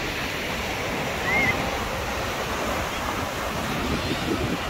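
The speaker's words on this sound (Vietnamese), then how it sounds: "Bãi biển ở Quảng Bình" Surf washing onto Hoanh Son beach in Quang Binh, Vietnam, on an afternoon: a steady, broad rush of waves with wind noise throughout. There are no sharp breaks and no talk.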